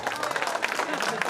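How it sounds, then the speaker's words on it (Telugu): Schoolmates at a 2004-05 batch high school reunion give a big round of applause, a brisk mass of clapping from the audience with voices faintly mixed in. "రియల్లీ ఒకసారి బిగ్ క్లాప్ కొట్టానమ్మా"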